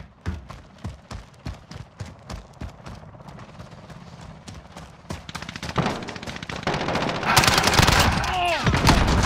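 A Call of Duty sentry gun fires a steady rapid stream of shots, the rhythmic bursts growing louder and denser toward the end as other battle noise builds in.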